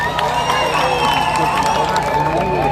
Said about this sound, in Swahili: Wapi makofi tafadhali?